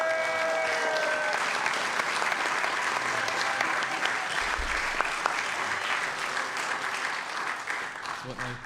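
A folk-concert audience applauds steadily after an opening set, a dense, even wash of clapping sustained for several seconds, with faint cheering at the start.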